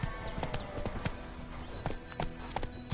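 Roach the horse trots in The Witcher 3, hooves clopping in a steady, fairly close rhythm over quiet game ambience.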